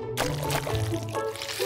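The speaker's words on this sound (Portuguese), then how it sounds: "Aqui tem um pouco de água para limpar melhor o quadro." Water poured from a container onto a classroom whiteboard to help clean it, a continuous splashing trickle lasting under two seconds, close and moderately loud with no voices.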